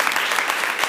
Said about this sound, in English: Can you give God a hand clap of praise there right